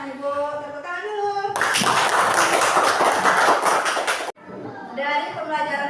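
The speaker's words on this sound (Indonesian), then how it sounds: "tepuk tangan dulu" Children in a classroom burst into a loud, dense round of applause for about three seconds, with a voice speaking just before and after the clapping.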